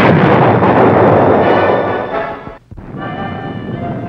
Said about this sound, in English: the bazooka.